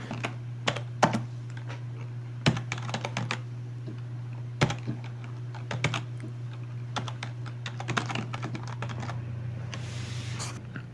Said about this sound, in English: So let me type the command right away.